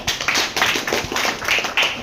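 Audience clapping at a blood donation gathering, a dense, steady burst of many hands lasting about two seconds, loud and close with no talk over it.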